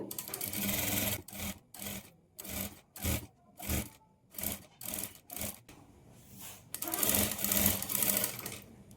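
A sewing machine stitches piping onto a blouse lining in a series of short rhythmic bursts separated by pauses, then a longer continuous run at the end.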